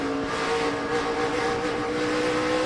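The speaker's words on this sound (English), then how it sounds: "Listen to Skinner try to work this track" A NASCAR truck at Bristol in the 2006 O'Reilly Auto Parts 200 roars as it accelerates, a loud, sustained engine drone with a steady pitch and a slight rise, with no talking over it.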